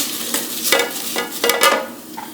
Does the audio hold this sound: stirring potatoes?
yes